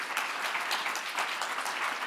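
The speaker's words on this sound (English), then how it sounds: "Let's give a round of applause to our students." An indoor audience at a Dartmouth event claps for students, a steady dense round of applause filling the whole moment with no break.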